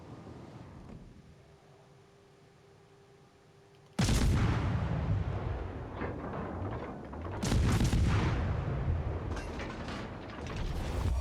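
Heavy naval artillery from a warship in a naval combat video game, with deep booming salvos fired at battleships: one loud blast around the midpoint and another a few seconds later, each trailing into a rumbling roar over low background noise.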